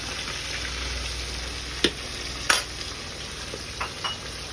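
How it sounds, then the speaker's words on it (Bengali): Bata and tilapia fish sizzle steadily as they fry crisp in hot oil, with a few sharp clinks and scrapes as pieces are turned over partway through. "মাছগুলো কিন্তু এক পিঠ ভাজা হয়ে গেছে, এখন কিন্তু উল্টে দেওয়া চলছে।"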